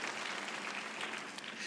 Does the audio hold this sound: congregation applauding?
yes